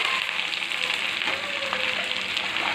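Green chillies sizzle and fry steadily in a hot pan for a green chilli chicken dish, a dense close crackle holding alone throughout.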